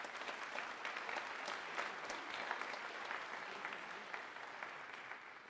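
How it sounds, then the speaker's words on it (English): A school fall concert audience gives Jayden and Caleb a round of applause, a sustained, even wash of many hands clapping, fairly soft and distant, holding steady for several seconds without talk. "Let's give them a nice round of applause."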